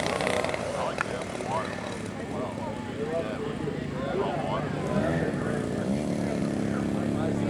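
A propeller-driven model airplane at a model air show drones as it comes in to land, its engine buzz fairly distant and underneath nearby conversation.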